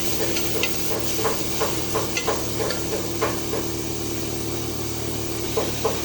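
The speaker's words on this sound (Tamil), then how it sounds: "நல்லா வதங்கி வரட்டும் வெங்காயம்." Onions sauté in a pan, a constant frying sizzle and hiss broken by soft clicks and scrapes of stirring at close range.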